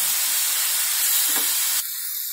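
Soya chunks and potato curry sauté in a hot pan with a loud, steady broadband sizzle and hiss up close, which suddenly drops to a quieter simmer near the end.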